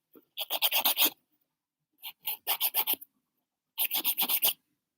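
A nail file rasps across fingernail edges during a manicure in three close bursts of quick strokes, each burst a run of five or six crisp back-and-forth scrapes separated by short pauses.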